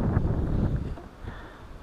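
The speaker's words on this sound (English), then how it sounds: "I was trying to get over here on the other side of these trees to block that wind a little bit." Wind gusting across a lake while bass fishing from a boat, a low rumbling buffet on the microphone, strongest early on and then easing slightly.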